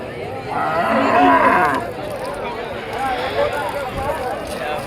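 A loud, drawn-out water buffalo moo close by at the Krosuru buffalo market, followed by a busy crowd of voices talking in the background.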